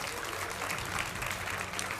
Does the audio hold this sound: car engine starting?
no